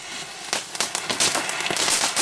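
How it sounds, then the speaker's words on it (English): Fireworks let off on New Year's Day crackle and pop in rapid irregular bursts, a dense run of sharp cracks close by that grows busier toward the end. "this is the best way of letting fireworks off"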